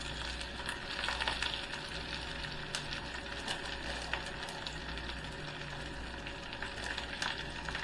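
Fresh spinach sizzles and fries in a hot pan, a steady soft crackle with scattered small pops, close and fairly quiet, with no talking.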